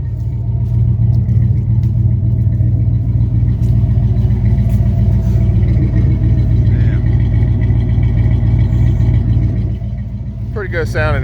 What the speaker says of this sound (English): Pretty good sounding exhaust.